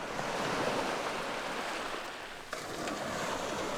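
Ocean surf washing onto the beach at Coney Island, a steady broadband roar of breaking waves with a brief dip and fresh surge near the end, no voices.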